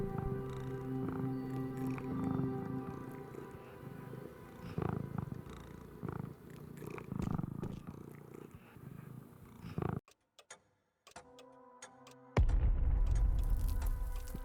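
A cat purrs steadily and up close inside the video game Tales of the Neon Sea, with a low rumbling rhythm, a brief near-silent gap, then a louder, deeper purr resuming at the end.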